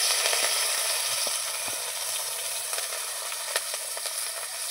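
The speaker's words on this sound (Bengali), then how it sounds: "তেল দিয়ে দিয়েছি, এখন চিংড়ি মাছগুলো আমি ভেজে নেবো।" Prawns frying in hot oil in a heated kadai, a continuous loud sizzle with scattered crackles and pops, close up and with no talk.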